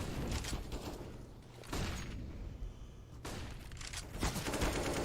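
Pistol gunfire in a Counter-Strike match, scattered bursts of sharp shots in a few clustered volleys, some rapid and overlapping, against steady in-game background noise.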